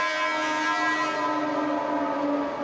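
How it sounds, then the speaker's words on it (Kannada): A long, steady train horn blares close by while a train rolls past, loud and continuous throughout, with no voices. "ಟ್ರೈನ್ ಹೋಯ್ತು"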